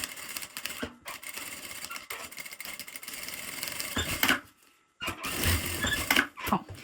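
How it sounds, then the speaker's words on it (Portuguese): A sewing machine stitching a finishing seam around the edge of a fabric phone-holder wallet, rapid mechanical clatter in several bursts with brief pauses, close and fairly loud, ending with a short silence before a final run of stitching. "Depois que eu passei, eu vou passar uma costura só de acabamento mesmo em toda a volta."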